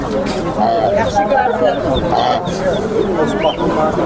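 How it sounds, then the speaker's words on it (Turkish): Roosters and other fowl at Sabunçu poultry market in Baku, with crowing and clucking mixed into a busy, continuous market din while people talk nearby. "Asır horozları var burada."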